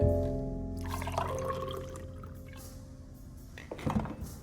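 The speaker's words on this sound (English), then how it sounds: "Let me pour you a drink." A drink being poured in the video game Alone in the Dark: a soft, sustained liquid pour that fades in as a tonal note dies away, ending with a few brief clinks.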